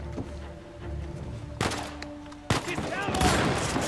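Gunfire in the video game Uncharted: The Lost Legacy: sudden, loud, close shots burst in twice over quieter in-game background noise, followed by a sustained rattle of rapid fire.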